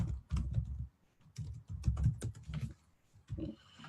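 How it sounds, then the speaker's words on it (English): Close computer keyboard typing in quick clusters of key clicks, with brief pauses between bursts as a name is entered, quiet and alone with no talk. "I'm going to type in that person's name and just type in commercial."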